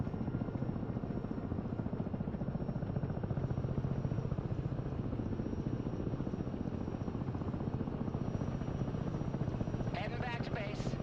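A V-22 Osprey tiltrotor flies in the Broken Arrow video game, a loud continuous rotor thrum with a steady pulsing beat throughout, close and dominant, with a brief higher sound near the end.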